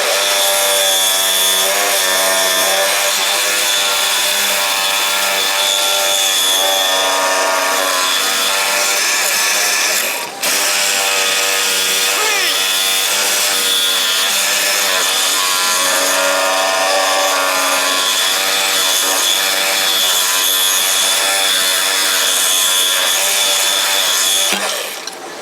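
A saw blade grinds steadily through the catalytic converter on a 2007 GMC Sierra 5.3 exhaust, a loud, continuous harsh rasp with a brief dip midway and no talking.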